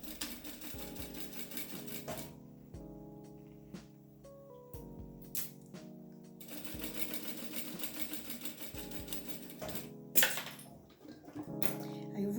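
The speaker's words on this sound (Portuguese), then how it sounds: "Agora eu costuro." A sewing machine stitches fabric for a baby clothes organizer, running in several steady whirring bursts separated by short pauses, close and fairly quiet.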